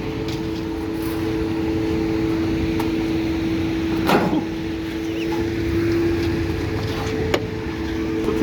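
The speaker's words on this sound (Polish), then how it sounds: "jest kurwa zagówniany odkurzacz. On w ogóle kurwa nie ciągnie." Vacuum cleaner with weak suction: a steady, droning motor hum with a constant tonal whine, running continuously at close range with a few faint knocks.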